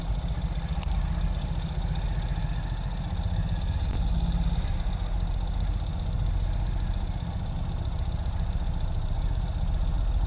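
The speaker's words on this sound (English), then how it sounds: "Here's the Ural moving in reverse." A 2021 Ural Gear Up sidecar motorcycle backing up in mechanical reverse with two-wheel drive engaged, its engine chugging in a loud, steady, low-pitched thrum at close range without pause.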